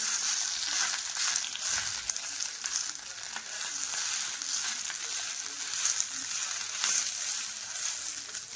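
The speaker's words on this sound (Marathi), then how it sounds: "इकडं मिरची लसूण घेतले भाजायला" Steady crackling sizzle of chillies and garlic roasting in a hot pan, with occasional sharper pops and stirring scrapes throughout.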